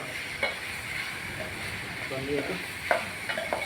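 Curry being mixed with turmeric in a pan, a soft continuous sizzle with a few brief scraping strokes of a spoon against the pan, fairly quiet and close.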